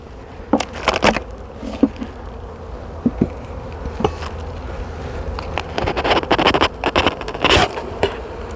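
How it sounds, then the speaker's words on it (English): Honeybees buzz around their hive close by, individual insects droning past the microphone in repeated bursts over a low steady hum of the swarm. "Lots of bees flying today."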